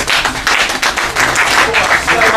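An audience applauds in a loud, steady burst of clapping that lasts throughout, close and full, with some voices underneath.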